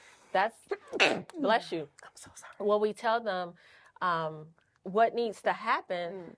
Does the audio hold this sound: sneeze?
yes